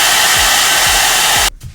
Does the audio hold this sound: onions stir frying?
no